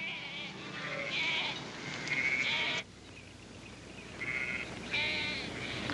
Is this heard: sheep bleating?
yes